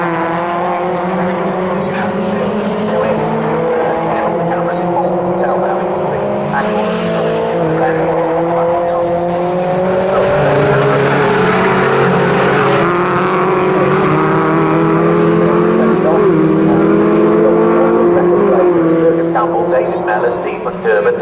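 MG race cars at speed on the Snetterton circuit during an MG Owners Club championship race, several engines droning and rising together in a steady loud pack, with a commentator talking over them throughout.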